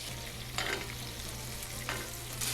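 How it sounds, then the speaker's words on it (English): Beef burgers frying in butter in a pan while being basted, a steady close sizzle with brief louder bursts as hot butter is spooned over the patties. "We're just gonna baste our burgers. But you don't want to burn the butter"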